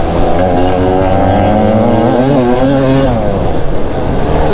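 Yamaha YZ250 two-stroke dirt bike engine lugging low in third gear through a slow corner on a wide track, a loud, steady close-up drone with a wavering pitch that briefly rises and falls, no talk.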